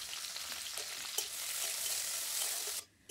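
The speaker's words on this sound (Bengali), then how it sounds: "কিশমিশটাকে ভেজে নিচ্ছি," Raisins fry in ghee in a wok with a close, steady sizzling hiss and occasional small pops, cutting off briefly near the end before resuming.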